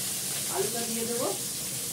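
Potato and pointed gourd hitting a hot pan and frying: a constant loud hiss of sizzling with a voice speaking briefly over it.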